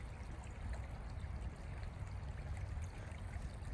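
Clear creek water running into a small eddy, a soft steady trickle and babble heard up close and faint, with no voices.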